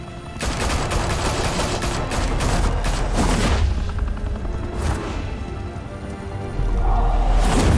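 Sustained rapid gunfire in Batman: The Telltale Series, a dense loud fusillade of overlapping shots running almost without pause, with heavier low booms swelling near the end.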